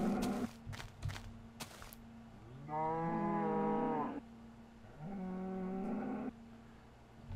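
Cows moo in Minecraft, two long drawn-out lowing calls a second apart, clear and close after a few short clicks and thuds.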